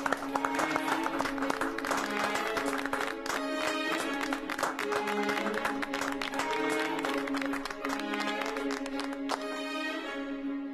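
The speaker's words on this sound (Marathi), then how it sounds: "टाळ्या." An audience at a farewell for a transferred office colleague applauds in sustained, dense clapping that carries on steadily for several seconds, with a musical tone running underneath.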